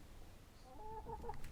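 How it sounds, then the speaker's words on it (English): Backyard chickens kept in Texas, with a few soft, quavering clucks rising near the end over a steady low background hum. "Can you hear that, listener? This is the sound of our favourite Texans chickens."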